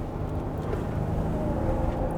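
A 2023 Kia Mohave body-on-frame SUV driving in third gear, heard from inside as a steady low engine drone mixed with road and wind rumble, continuous and fairly loud with no voices.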